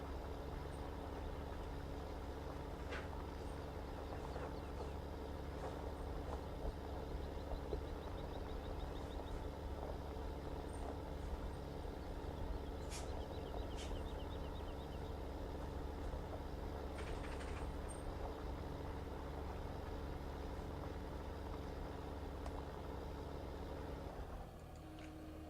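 A large tractor engine in Farming Simulator 15 running steadily, a low continuous drone with a strong bass hum that holds at an even level and drops away slightly at the very end.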